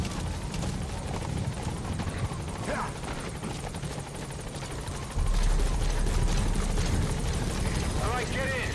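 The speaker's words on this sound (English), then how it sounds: "Support helicopter has arrived." In Metal Gear Solid V, a support helicopter arrives with a steady thudding rotor wash that stays close and loud and grows heavier partway through. A voice talks over it.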